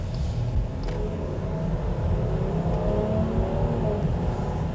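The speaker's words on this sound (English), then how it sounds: "The V6 sounds sporty." Heard from inside a Jeep Grand Cherokee L Summit on a drive, its V6 engine hums in a steady, sporty-toned drone under road and wind rumble, with no one talking.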